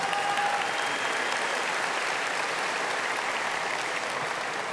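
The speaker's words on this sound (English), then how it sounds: "Let's give them a round of applause." Steady, dense applause from a large audience at a high school graduation ceremony, continuous and even throughout with no voices standing out.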